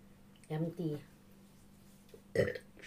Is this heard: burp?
yes